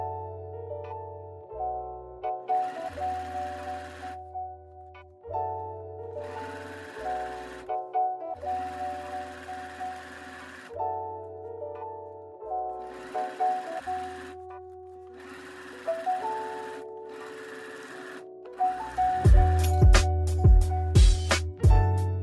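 Sewing machine stitching panels of recycled plastic bags for a tote, running in repeated short bursts with pauses between, then a faster, busier run with clicking at the end.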